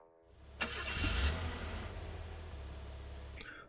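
In a gas station simulator game, a vehicle's engine starts with a click and settles into a low, steady rumble as it pulls out, fading near the end.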